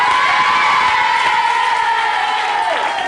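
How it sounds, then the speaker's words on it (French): A television studio audience at a children's show applauds and cheers, with a steady wash of clapping and shouts joined by a sustained whistle-like tone, loud and continuous throughout. "On les applaudit"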